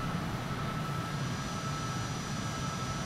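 A flight simulator game plane's engine roars steadily during takeoff, a constant broadband drone with low rumble and no breaks.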